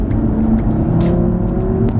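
Audi RS3 8V accelerating hard from inside the cabin, a loud, steady engine drone with rising tone, punctuated by brief sharp clicks or knocks.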